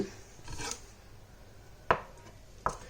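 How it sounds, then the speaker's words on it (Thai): Knife cutting soft mozzarella cheese on a board for a salad, heard as soft faint scrapes followed by two sharp, quiet taps of the blade striking the board. "อันนี้จะหั่นมุสซาเลล่านะคะ"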